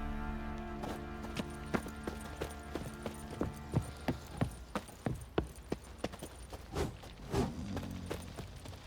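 Horse hooves clop along at a steady walking pace in The Witcher 3: Wild Hunt, each strike distinct, over a low ambient hum.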